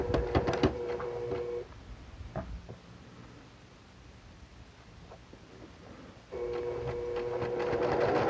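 A sewing machine back tacks a quarter-inch seam on a fabric face mask: two steady motor whirring bursts at the start and end, with a quiet pause between them.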